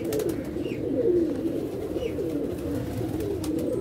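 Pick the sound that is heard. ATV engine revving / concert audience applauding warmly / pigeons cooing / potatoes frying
pigeons cooing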